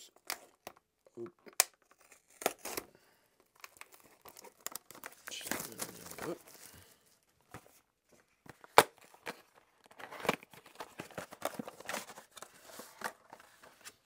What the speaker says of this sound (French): Donc on va juste ouvrir la boîte, voir qu'est-ce qu'il y a à l'intérieur